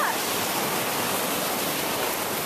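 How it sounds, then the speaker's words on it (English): Ocean waves wash onto a beach in a continuous broad hiss of splashing surf, loud and near, without clear breaks. "Oh, look, the waves!"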